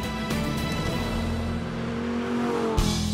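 Audi R8 Coupé V10 Plus with its 5.2-litre V10 revving, a steady, loud, high-pitched engine note that holds for a few seconds and then shifts in pitch near the end.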